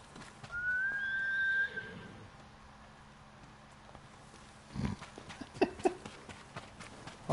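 A horse that has got stuck while hitched whinnies loudly once near the start, a long rising and falling call, followed by quiet and then a few scattered hoof clops and knocks.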